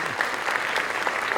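A school board meeting audience applauds Reading Fair winners in a steady patter of many hands clapping. It sounds like a moderate crowd in an indoor room, and the applause carries on for the whole moment.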